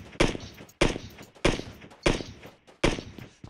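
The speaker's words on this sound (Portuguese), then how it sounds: "Mil tiros pra matar um cara" Five sharp gunshots crack at a steady pace in PUBG Mobile, each followed by a short decaying rumble, with no talking.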